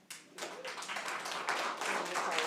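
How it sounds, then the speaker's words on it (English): An audience applauds at a Michigan Senate Oversight Committee hearing on vote fraud: a burst of many hands clapping that starts abruptly and holds steady and fairly close for a couple of seconds. "I would appreciate if you would withhold applause"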